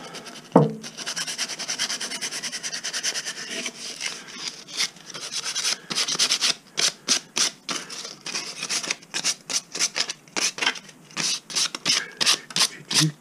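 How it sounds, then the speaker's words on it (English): Sandpaper scuffs the broken edges of a SUP paddle by hand, first a continuous rough rasp, then a quick run of short rhythmic strokes, close and clear with no talking. "I'm going to start out by taking some sandpaper, and I'm going to rough up these edges to give the glue something mechanical to grab onto"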